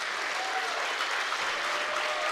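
Wrestling crowd at a WSW Australian Championship bout applauding steadily, a dense wash of clapping that holds loud and even throughout with no voices standing out.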